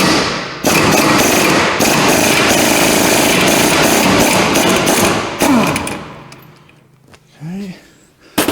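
A power tool rattles off the pinion nut on a Ford F-150 8.8 axle in a loud, continuous hammering burst lasting about five seconds, then stops, followed by a short spoken remark.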